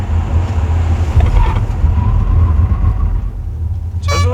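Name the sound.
Tesla Model S 90D full braking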